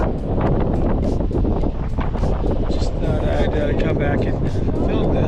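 Strong outdoor wind buffets the microphone in a constant low roar beside a long, lonesome road between Missouri and Utah, while someone talks over the rumble throughout.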